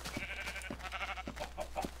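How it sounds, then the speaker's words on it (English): Several bleats from a gray sheep in Minecraft come in quick, wavering bursts at close range. They are moderately quiet and there is no talking over them. "That's a gray sheep."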